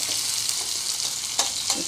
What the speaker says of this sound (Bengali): কড়া গরম হয়ে গিয়েছে, তেল দিয়ে দিয়েছি, তেলে সামান্য হিং দিয়েছি। এবার পেঁয়াজগুলো ভাজা ভাজা হয়ে গেলে